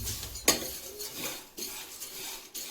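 Seeds and dry fruits being roasted in a pan for dry fruit laddoos, with a spoon scraping and clinking against the pan in a few separate strokes, close and fairly quiet.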